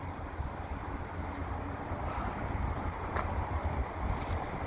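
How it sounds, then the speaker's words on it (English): VIA Rail westbound LRC passenger train at Dorval station in winter, a steady broadband rumble of the train starting off nearby with faint higher squeals above, continuous and fairly loud throughout. "And the Via train looks like it's ready to leave."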